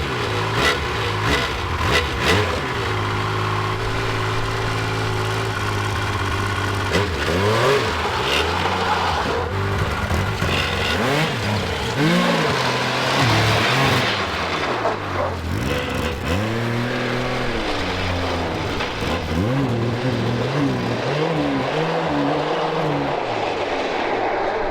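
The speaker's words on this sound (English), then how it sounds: "So it's a 1000 bullet bike motor" A 1000 Bullet bike motor runs and revs, with a steady rumble building into repeated rising and falling revs that sweep up and down, loud and close throughout, the pitch swooping between bursts.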